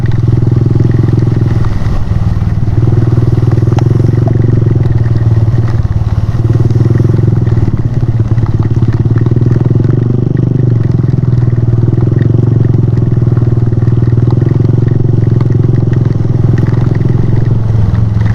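A motorcycle engine drones loudly and steadily up close on a long road ride, with a rumbling low tone, slight shifts in pitch, and rattling clatter throughout.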